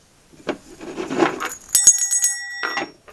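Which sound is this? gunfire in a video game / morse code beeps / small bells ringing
small bells ringing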